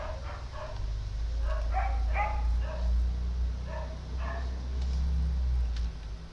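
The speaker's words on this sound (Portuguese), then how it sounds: "É o cachorro sendo cachorro" A dog barks repeatedly in short bursts from a short distance, over a steady low hum, with a few yips mixed in.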